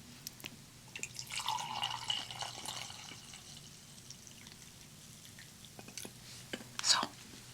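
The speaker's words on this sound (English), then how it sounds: "And I've got some Earl Grey in here, so I'm going to pour some." Earl Grey tea poured from a teapot in a home kitchen, a soft trickling pour of liquid into a cup for a couple of seconds, then a faint clink, quiet and close.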